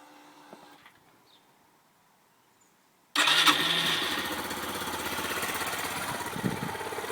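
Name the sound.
Yamaha YBR 125 motorcycle engine starting and idling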